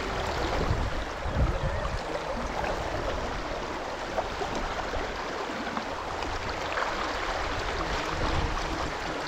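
Strong current of the Deduru Oya river near Kadigawa, running knee-deep over stones after a cyclone, rushes in a steady, dense broadband wash close to the listener, with no talk.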